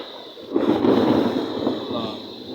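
Thunder rumbles during a heavy monsoon rainstorm, a deep swelling roll that builds and slowly fades over a couple of seconds against a steady background hiss.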